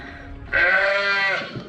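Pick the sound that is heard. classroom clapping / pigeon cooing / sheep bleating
sheep bleating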